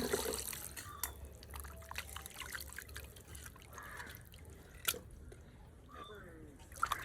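Water is poured to wash fish, making a faint, uneven trickle and splashing, with quiet voices talking nearby.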